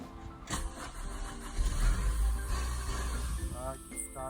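A Toyota Avensis engine cranks and catches with a sharp start about half a second in, then settles into a steady, fairly loud running note with some rumble. A brief higher whine sounds near the end.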